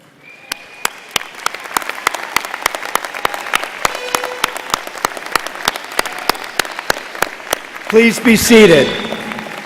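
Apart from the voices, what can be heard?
audience applauding medical graduates at commencement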